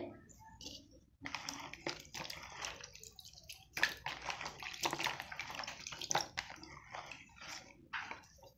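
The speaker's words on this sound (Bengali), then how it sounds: "ঘরোয়া গাছের তাজা সজনা খাড়াগুলো ভালো করে ধুয়ে নেব কেটে নেওয়ার পরে" Freshly cut home-grown drumsticks rinsed under running water, with splashing, rubbing and light knocking as the pieces are handled in a basin, close and fairly quiet, with faint speech-like sounds in the background.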